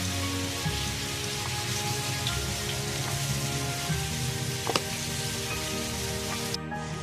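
Jalebi frying in hot oil: a steady, dense hiss of sizzling bubbles that runs unbroken throughout, moderately quiet, with a few faint clicks and no talking.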